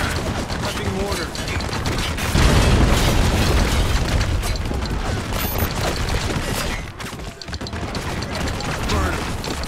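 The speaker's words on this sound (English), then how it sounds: "Fire! Prepping mortar." Mortar rounds fire and explode during a combat mission in the video game Spec Ops The Line, a loud, dense stretch of booming blasts and rumble layered with mechanical clatter and gunfire.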